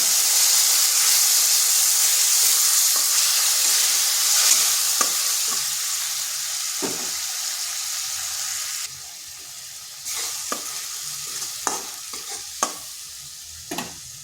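Ginger frying in a pan with tomato and dried red chilli paste added for a bitter gourd dish, a steady loud sizzle and hiss that drops partway through, with sharp clinks of a spatula stirring against the pan; no talking.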